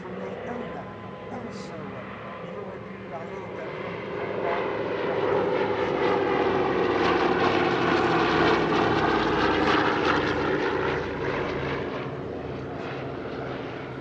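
Douglas C-47 Dakota, a piston-engined propeller transport, drones steadily at an airshow near Paris-Villaroche, its engine hum rising and swelling louder mid-way, with a voice talking over it throughout.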